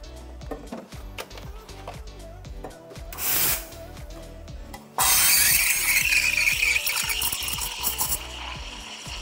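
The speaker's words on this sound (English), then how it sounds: "We're gonna be steaming the milk the same as we would a latte." An espresso machine steam wand steams milk for a mocha. After clattering handling sounds, a loud continuous hiss begins and holds steady for several seconds at close range.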